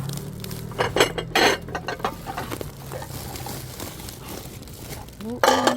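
Glass plates clinking and knocking together as they are lifted and shifted during dumpster diving, sharp clatters in bursts at the start and end, with a voice talking over the handling.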